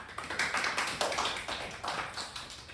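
A group of people clapping together at a church training session, rapid overlapping claps forming a steady patter, fairly quiet and without talk.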